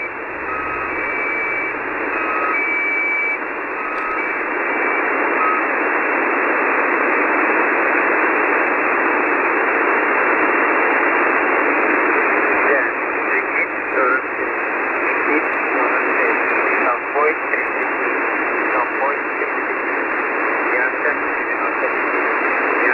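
Shortwave numbers station broadcast of a voice repeating phonetic words in Russian, heard as a continuous band-limited radio signal with heavy static and faint tones throughout.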